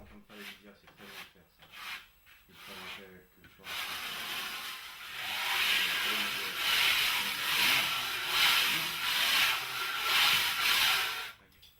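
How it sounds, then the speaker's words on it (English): Adhesive being spread onto the backing of vinyl flooring, a soft rhythmic scraping and rubbing that grows louder and steadier in the second half, following quieter handling noises. "Then apply adhesive to flooring backing."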